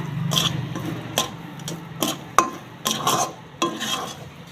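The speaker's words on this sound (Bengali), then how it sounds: "এইভাবে নাড়তে নাড়তে যখন একটু ঘন হয়ে যাবে তখন এটা নামিয়ে নিতে হবে" Green pea kachori filling being stirred in a pan over low heat: a series of distinct scraping strokes, roughly one every second, close and clear over a soft background sizzle, with no one talking.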